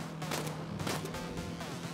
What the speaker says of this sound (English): Wait, why is she shooting?